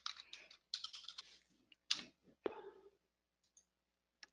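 Typing on a computer keyboard in quiet surroundings: irregular bursts of light key clicks, some closely packed runs and a few isolated taps, with pauses between.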